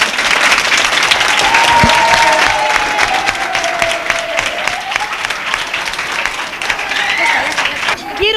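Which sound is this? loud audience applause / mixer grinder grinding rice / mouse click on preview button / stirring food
loud audience applause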